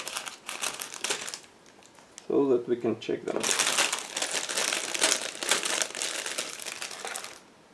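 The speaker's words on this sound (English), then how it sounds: "Just give me a second to open the plastic bag" Crinkly plastic rustling and crumpling as a model kit's plastic bag of sprues is opened, starting partway through and carrying on steadily, close by, after a brief stretch of talking at the start.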